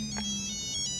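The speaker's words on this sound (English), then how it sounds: "Oh, that's my phone." A mobile phone ringtone plays a short, bright electronic melody in an internet cafe, with a few quick tonal notes close by and no talking over it.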